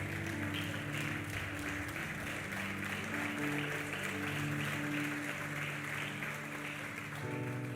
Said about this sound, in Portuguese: Pode se assentar aplaudindo ao Senhor